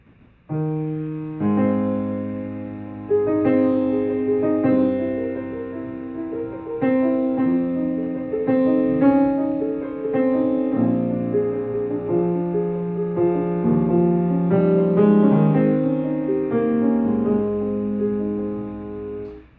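A solo piano plays the slow, lyrical melody of Liszt's Liebestraum over gentle chords, steady and close, with no voices.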